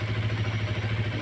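A Honda CB150R motorcycle engine idles steadily and close by just after starting, with a low even thrum and a light mechanical clatter, and no talk.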